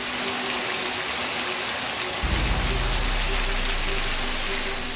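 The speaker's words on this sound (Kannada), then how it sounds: "ನಿನ್ನೆ ವಿವಿಧೆಡೆ ಧಾರಾಕಾರ ಮಳೆ ಸುರಿದಿದೆ." Heavy downpour drumming steadily across the whole stretch during a spring storm of gusty winds in Karnataka, with a deep low rush of pouring or gushing water swelling in halfway through and staying loud.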